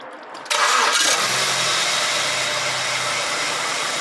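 A BMW 320i E90 with a ZF6HP19 automatic transmission starts up during a fluid service: a brief cranking, then the engine catches at about half a second and settles into a steady, close, loud idle that runs on alone.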